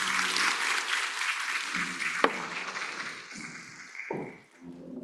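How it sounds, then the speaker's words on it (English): An audience at an international agricultural symposium claps in a sustained round of applause, dense and fairly loud, gradually thinning out toward the end. "Please give them a big round of applause once again."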